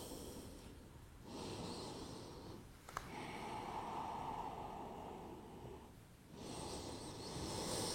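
Slow, soft breathing during a gentle yoga stretch: long airy inhales and exhales close to the mic, with a quiet pause between them and one small click midway.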